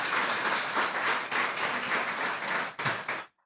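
A church congregation claps together in loud, dense applause that swells in waves, briefly dips and resumes, then stops abruptly.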